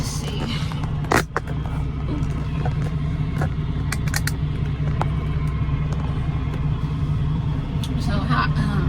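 A Peterbilt truck's diesel engine rumbles steadily at idle-to-low revs while backing out, a continuous close drone with a few faint clicks and knocks over it.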